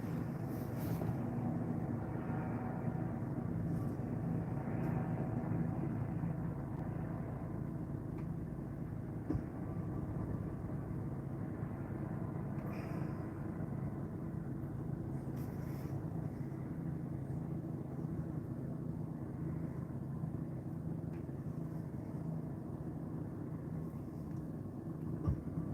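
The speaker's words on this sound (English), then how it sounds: "the helicopter is literally overhead, so I'm just circling" A police helicopter circles overhead during a patrol, its steady low rotor and engine drone running continuously and fairly loud for the whole stretch, with no talking.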